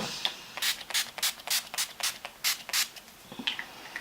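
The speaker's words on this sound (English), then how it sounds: "I go in with the NYX Matte Finish Setting Spray just to keep this base in place" Quick bursts of hissing spray from NYX Matte Finish Setting Spray misted onto a face, a dozen or so short pumps in an uneven rhythm, close by with no talking.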